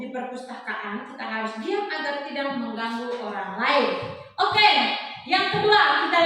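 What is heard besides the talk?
No everyday noise stands out behind the speech.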